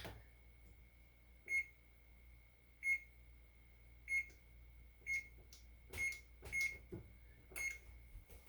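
Oven control beeps ring out as the oven is set to preheat to 400, a series of about eight short, clear electronic tones spaced irregularly, with soft handling clicks between them in a quiet room.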